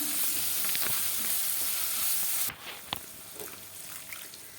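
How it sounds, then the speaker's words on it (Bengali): Onions browned to a reddish colour sizzle in a pan with ginger-garlic paste while a spoon stirs them, loud broadband frying for half the clip, then quieter with a sharp scrape or two. "তো পেঁয়াজটা লালচে লালচে হয়ে গেছে দিয়ে দিলাম আদা রসুন বাটা তো এবার আরেকটু নাড়াচাড়া করে নেবো"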